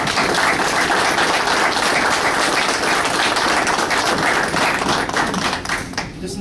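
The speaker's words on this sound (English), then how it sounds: "I'd like to give them a round of applause." An audience at an Explorer Post awards and graduation ceremony gives a round of applause, loud, dense continuous clapping that holds steady and then begins to taper off near the end.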